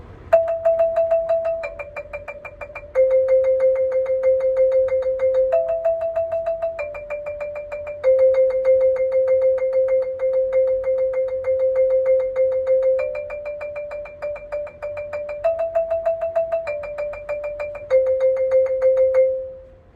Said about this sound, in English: we're going to play our rolls to the song, a very famous song called Hot Cross Buns